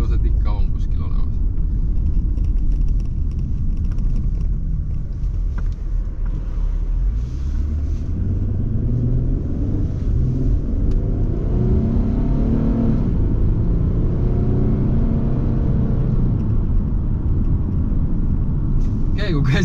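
An Infiniti G37x on a test drive: constant low road and engine rumble from inside the car, with the engine tone rising and shifting midway as it accelerates, plus some wind noise.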